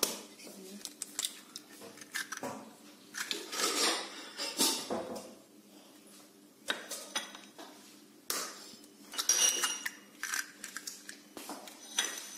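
Four eggs cracked and dropped into a bowl of dough mixture for cocoa ghriba cookies, with sharp taps, clinks of utensils against the bowl and soft wet plops in an intermittent rhythm, close and fairly quiet.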